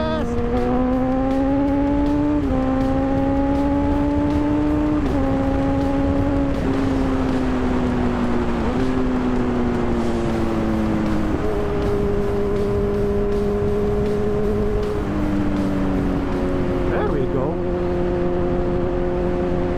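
A Kawasaki Z1000 motorcycle engine revs up loudly and continuously through a series of gear shifts, rising then dropping in pitch with each change, with no backfire pops, heard close with steady wind noise.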